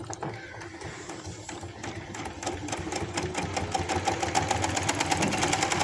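A sewing machine stitches pajama pants, its needle chattering in a fast, even mechanical rhythm that builds in speed and loudness, close and steady with no talk.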